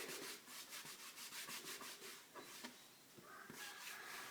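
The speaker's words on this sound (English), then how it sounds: "Just rub it off," Hand rubbing hand cleaner off a Big Shot cutting plate, a steady scratchy rubbing with repeated short strokes, close and fairly quiet, with no talking.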